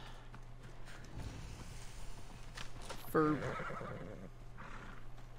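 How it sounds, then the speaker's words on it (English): Summoned horse in the video game Assassin's Creed Odyssey, hoofbeats clopping in under a background hum, then a loud whinny around the middle, with a voice speaking briefly. "Summoning the horse."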